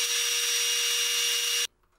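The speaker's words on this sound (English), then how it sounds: "To attach the mounting boards to the legs, I use a 2-inch multi-purpose wood screw to hold it in place." A power drill drives a 2-inch multi-purpose wood screw into a wooden mounting board on a leg, one steady high whirring run that cuts off abruptly into near silence; no voices.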